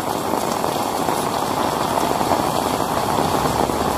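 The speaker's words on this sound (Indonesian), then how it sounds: "Hujan yang seger ya" Heavy rain pours down steadily on a village in Kuningan, a dense, even hiss of falling water with no breaks and no voices.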